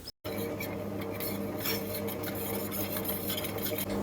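Dry yeast stirred into warm sugar water in a bowl with a spoon, a steady soft scraping and clinking that runs throughout after a brief silent gap at the start.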